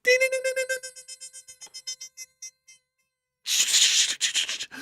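A Morse code message beeps as a rapid, steady run of short, clear tone pulses, then gives way to bursts of harsh, noisy static.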